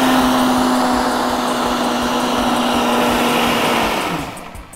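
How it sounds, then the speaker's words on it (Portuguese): A not very powerful kitchen blender whirs steadily while beating sugar and flour into orange cake batter, a loud continuous drone with a faint pulsing beneath it that cuts out near the end. "Vamos bater um pouco porque o liquidificador também não é tão potente"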